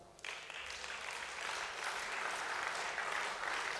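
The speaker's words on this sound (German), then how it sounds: "Applaus" Sustained applause from an audience in a German state parliament chamber, starting abruptly and holding steady as a dense, even wash of clapping with no voices.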